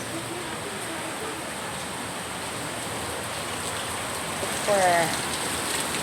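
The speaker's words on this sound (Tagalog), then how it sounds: "Ang lakas ng ulan." Heavy afternoon rain pours down in a constant, even hiss of drops drumming on surfaces, and a brief voice speaks near the end.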